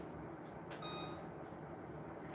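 A kitchen timer beeps in a short run of bright, evenly spaced tones, clear and close over a quiet room with faint background hiss.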